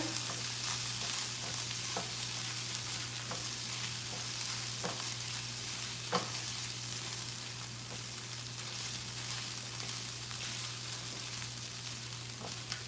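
About a tablespoon of tomato paste frying in a pan for shrimp and grits, a soft steady sizzle over a low constant hum, punctuated by sparse utensil clicks and scrapes as it is stirred, no speech.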